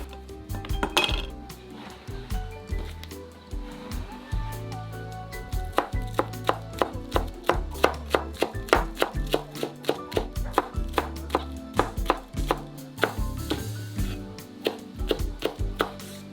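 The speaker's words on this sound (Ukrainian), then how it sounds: "Додатково нарізаємо зелену цибулю." A knife chops green onion on a board with rapid, close, sharp taps in quick bursts. Earlier a few clinks of dishes sound in a kitchen with a wood-fired oven, and no one speaks.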